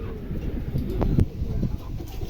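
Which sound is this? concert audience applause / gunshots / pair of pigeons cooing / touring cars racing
pair of pigeons cooing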